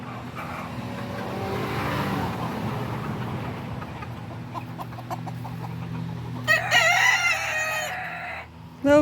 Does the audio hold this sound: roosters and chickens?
yes